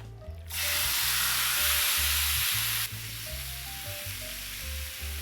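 Pork dropped into a hot pan for Filipino estofado sets off a loud, sudden sizzle that holds strong, then settles into steadier frying, with low clatter and soft knocks underneath.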